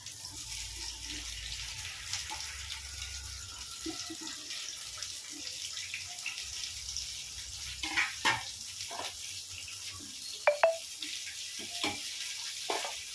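Onions and tamarind sauté in a pan for a brinjal chutney, giving a steady soft sizzling hiss with occasional clinks and scrapes of stirring near the end.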